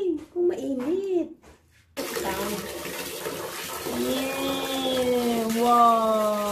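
Water pours and splashes steadily while a two-month-old Shih Tzu puppy is bathed, starting after a brief pause and running continuously, with voices chattering near the start.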